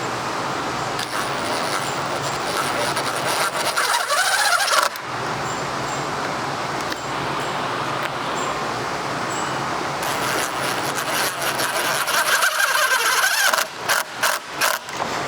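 A power drill drives screws into a wooden door jamb while a door is being pre-hung, giving a loud, continuous whirring grind with brief pauses and a few short stuttering bursts near the end.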